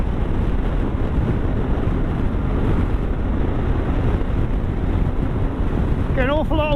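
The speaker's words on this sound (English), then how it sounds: "An awful lot of wind buffering at speed, mind." Heavy wind buffeting while riding a Yamaha Tenere T7 motorcycle at speed, a loud, steady roar that fills the whole span, with a brief voice near the end.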